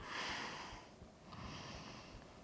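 A slow, full exhale during a vinyasa yoga flow, breathy and soft, followed by a second quieter breath, close and without talk.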